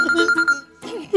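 A telephone rings with a bright electronic tone in a comedy sketch scene, two bursts of ringing separated by a short pause, close and clear.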